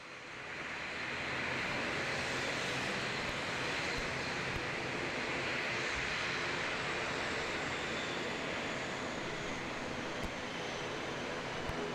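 ATR turboprop airliners at Christchurch Airport in New Zealand, a loud steady engine roar and broadband rush that holds for the whole stretch, distant but filling, without talk.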